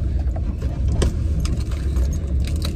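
A car driving along a rough road and shaking heavily, a steady low engine and road rumble with light rattling and jangling inside the cabin.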